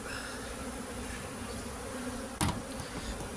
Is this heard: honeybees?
yes